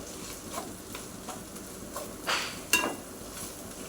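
Ground masala spice paste fries in a pan for a shark fish curry, a soft steady sizzle broken by the scrape of stirring, with a few sharper scrapes and clanks toward the end.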